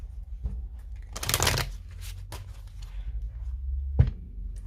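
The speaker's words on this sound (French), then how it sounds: "je vais bien mélanger parce que ce jeu, je prends les cartes à l'endroit et à l'envers." Oracle cards being shuffled by hand, several soft riffling bursts with a brief louder flurry, then a tap near the end, with no talk.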